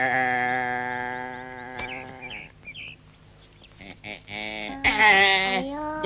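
A goat bleats in wavering, nasal cries, one drawn-out call at the start and another near the end, with children and adults talking around it.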